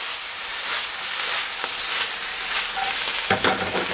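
Brussels sprouts cooking down in a hot pan, with a steady loud sizzle and hiss of frying that continues throughout, plus occasional stirring scrapes.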